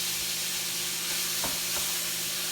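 Ground beef (ground chuck) and onion sauté in a pan, giving a steady, close, dense sizzle with a low hum beneath and a brief stirring scrape partway through.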